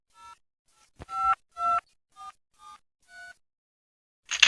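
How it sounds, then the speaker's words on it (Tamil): Phone keypad dialing tones in the Mr Meat video game, a run of seven short electronic beeps with irregular gaps, clean and alone, followed by a brief burst of noise at the end. "போய் இப்போ போலீஸ்க்கு ஃபோன் பண்ணணும்."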